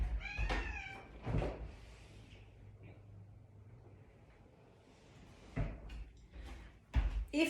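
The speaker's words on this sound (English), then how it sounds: "that's my cat" A pet cat meows a few times at close range in a quiet room, short bursts near the start and again toward the end, with a soft thud like a door in between.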